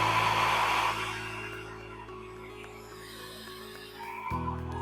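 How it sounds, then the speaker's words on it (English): A hairdryer blows on wet paint on a fabric scarf, its whooshing airflow loud for about a second and then fading to a quieter steady rush, with a low mechanical hum throughout. "So let's see what it looks like with the hairdryer."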